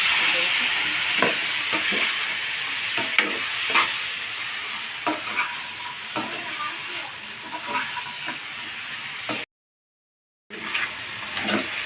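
Vegetables, including peas and spinach, fry in a pan with a loud continuous sizzle and hiss, broken by repeated scraping stirs of a spatula, before a short gap of silence near the end.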